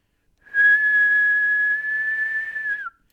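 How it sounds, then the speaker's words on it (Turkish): Someone whistles one long, steady, high note over CS:GO Jailbreak voice chat. It is held for more than two seconds, then bends down slightly at the end, loud and close, with no speech around it. "oğlum ıslık çaldım"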